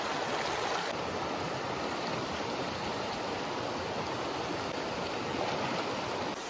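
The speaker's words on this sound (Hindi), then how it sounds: "so I am here in the river" River water rushes continuously around a swimmer in a jungle river in Northeast India, a loud, dense, unbroken wash of flowing water close by with no voices.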